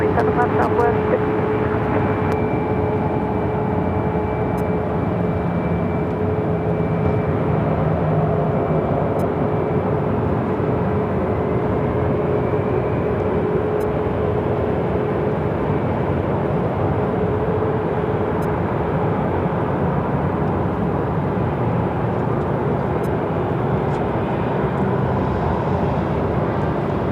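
Southwest airliner rolling for takeoff from runway 7 left at Phoenix Sky Harbor, a steady loud jet roar with a sustained whine held throughout, heard from a distance with occasional radio chatter over it.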